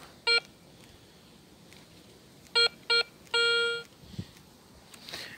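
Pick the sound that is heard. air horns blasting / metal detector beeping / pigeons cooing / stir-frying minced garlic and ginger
metal detector beeping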